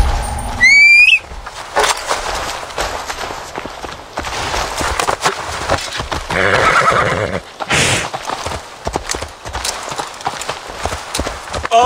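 A horse in Assassin's Creed Valhalla gives a loud whinny at the start, then galloping hooves clatter steadily under game ambience and scattered noise for the rest of the stretch.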